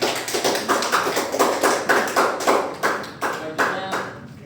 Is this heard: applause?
yes